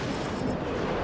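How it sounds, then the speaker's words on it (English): Gunfire in the Batman: Arkham City video game, a dense, continuous rattle of shots that blurs into a steady wash of noise for about a second, with no voices. "I hear bullets."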